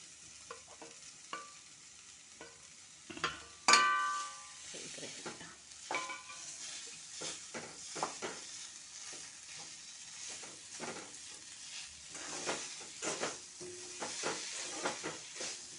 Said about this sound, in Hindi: अच्छे से मिक्स कर लेते हैं और आलू को अच्छे से सिक जाने तक सेक लेते हैं।